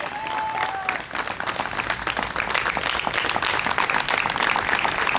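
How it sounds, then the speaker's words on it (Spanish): A church congregation applauding loudly, dense sustained clapping from a large crowd that swells toward the end, with a brief voice heard near the start. "Si le va a dar un aplauso, sáquese los guantes y déle un aplauso fuerte al Señor"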